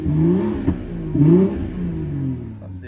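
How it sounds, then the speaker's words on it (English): BMW 440i with an M Performance exhaust, limited to 3,000 rpm, blipped twice from idle. Each rev rises into a deep, throaty burble and falls back to a steady rumble, close and loud. "That's the M Performance exhaust there kicking in"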